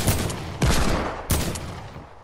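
AK rifle fire in a video game: loud, close bursts of gunshots, two or three heavy reports spaced roughly half a second apart, each trailing off into echo.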